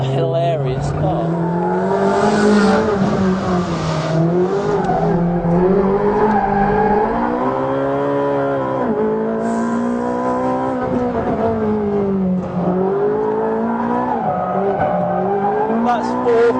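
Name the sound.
Ferrari 458 Speciale racing on track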